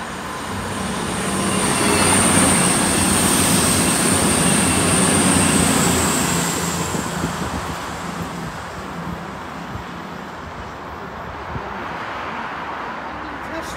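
Train rumbling past St Mary's South Junction, a broad steady roar that swells over the first few seconds and then eases as it passes, with faint wheel noise and a high whine.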